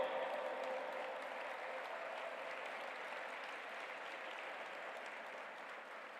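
An audience at the G20 Interfaith Summit in the World Peace Dome gives Dr. Gunnar Diop a standing ovation after his address: dense, sustained clapping from a large hall that tapers off slightly toward the end.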